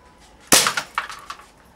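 A gunshot strikes a plant pot, a single sharp crack with a breaking, smashing burst, followed by a few shorter clattering hits as pieces fall, close and loud with no talking.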